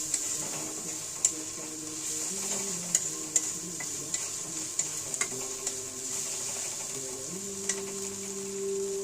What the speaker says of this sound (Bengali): এই যে দেখো আমি তোমার জন্য শিং মাছের ডিম রান্না করতেছি।